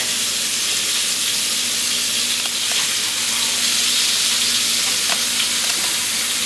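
Food frying in a pan produces a loud, constant close-up sizzle and hiss, with a few faint clicks and scrapes and no voices.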